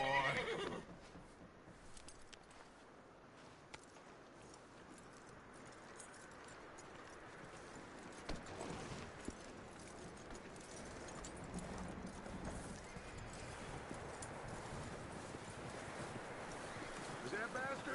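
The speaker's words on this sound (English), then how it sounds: "That looks like a decent horse." A horse in Red Dead Redemption 2 whinnies and its hooves clip-clop steadily at a walk, with wind noise, a game soundtrack and voices running underneath.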